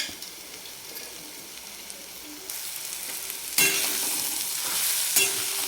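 Steady frying sizzle of egg chutney in a wok that grows louder partway through as oil is added around the edge, a bright hissing crackle with a few short stirring scrapes.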